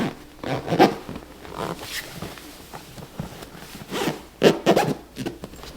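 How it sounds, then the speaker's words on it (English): A zipper on a LoveSac couch cover is pulled closed in several short, rasping strokes with brief pauses between them, close and clear. "we'll zip it up halfway and halfway."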